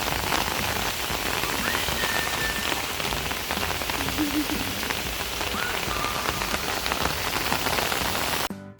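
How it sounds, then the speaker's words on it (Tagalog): Steady rain falls outdoors in Tokyo near the Imperial Palace, a dense even hiss of drops on surfaces throughout, with a few faint frog-like croaks underneath, cutting off abruptly at the end. "At tuluyan na ngang umulan."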